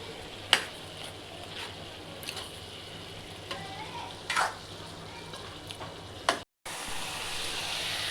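Chicken keema with garlic-ginger paste sautéing in a pan gives a steady, low sizzle, broken by a few sharp clinks and scrapes of stirring and a brief dropout near the end.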